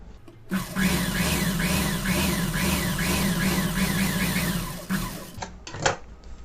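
A sewing machine runs steadily for about five seconds, stitching a folded hem on a blouse, with a rapid even whir that stops, followed by a few brief clicks.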